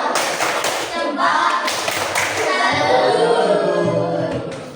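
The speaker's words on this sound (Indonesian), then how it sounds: "Kita beri tepuk salut." Hands clap steadily together in a classroom, a dense run of group applause from students that carries on through the whole stretch with faint voices underneath.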